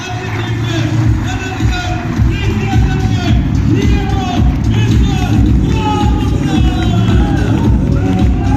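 A dense, loud crowd cheers and whoops at a company meeting while music plays underneath, a continuous roar of voices and shouting throughout.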